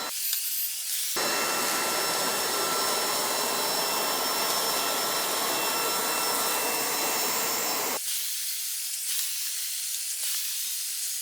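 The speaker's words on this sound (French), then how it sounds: "Je vais donc mettre l'aspirateur en mode turbo." A vacuum cleaner runs in turbo mode at maximum power on a carpet, a loud steady whooshing roar with a high whine that starts abruptly, holds for several seconds, then cuts off, leaving quieter background.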